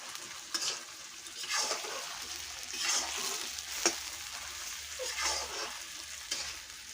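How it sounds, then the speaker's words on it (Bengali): Meat being sautéed in a pan in a home kitchen while cooking desi chicken: a steady sizzle with repeated scraping stirs at a regular rhythm, close and fairly quiet, no talking. "দেখো এরকম ভালো করে কষাই নিচ্ছি মাংস।"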